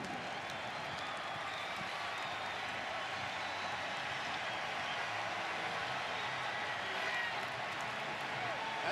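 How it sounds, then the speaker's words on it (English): Buffalo Bills home crowd in a stadium roaring after a touchdown, a broad, steady wash of cheering and clapping that stays even across the whole stretch. "That touchdown certainly excited this Buffalo Bills crowd."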